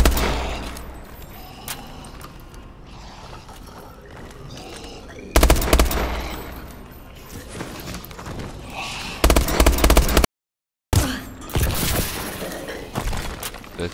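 Bursts of three-round gunfire in a zombies first-person shooter game, loud and clipped and repeating in clusters over a dense, noisy game soundscape, with a brief dropout of sound partway through.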